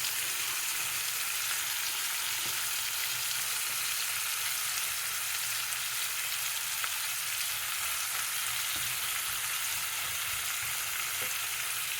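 Steady, even sizzling of fish frying in a pan as onion leeks are added, a constant hiss with occasional faint stirring taps and no talk.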